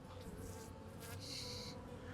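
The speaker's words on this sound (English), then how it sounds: "These are all the worker bees." Worker bees in an open hive hum in a dense, continuous buzz, close and steady, with swarming wingbeats rising briefly.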